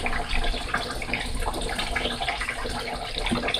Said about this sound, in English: Add a little bit of water to mine.